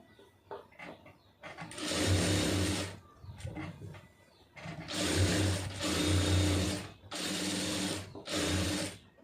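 A sewing machine stitches cloth in several bursts of rapid, even mechanical chatter, each lasting a second or two with short pauses between, close and clear with faint handling sounds in the gaps.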